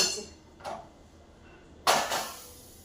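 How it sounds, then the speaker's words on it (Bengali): Metal clinks and knocks as cooked hilsa fish curry with black cumin is poured out: two separate clanks of pot against dish, the second louder, in an otherwise quiet kitchen. "আর এবার আমি মাছটাকে পুরো ঢেলে নেব"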